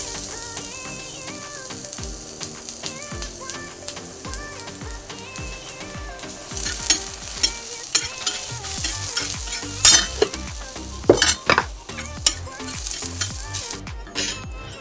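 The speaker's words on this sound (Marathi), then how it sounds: "नंतर मिरची घ्यायची, थोडा लसूण टाकायचा सोललेला." Green chillies and peeled garlic roasting in a pan, crackling and popping that grows louder and busier partway through, with sharp spits and sputters near the end and no talking.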